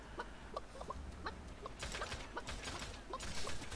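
Chicken clucking inside the video game Realm Royale, short repeated clucks over a busy background of game noise, moderately loud and fairly close.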